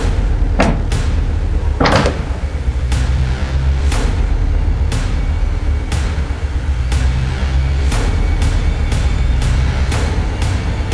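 Indoor door knocks and bangs, a series of sharp wooden thuds repeating irregularly over a steady low background hum, loud and close, with no voices.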